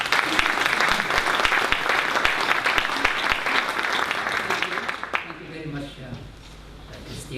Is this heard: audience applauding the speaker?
yes